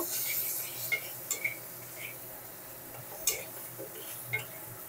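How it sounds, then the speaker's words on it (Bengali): Salt and turmeric powder fry quietly in a pan for dal as a spoon stirs, with a few faint metallic clinks and scrapes over a soft sizzle. "হলুদ গুঁড়োটা দিয়েও একটু নেড়ে নেব"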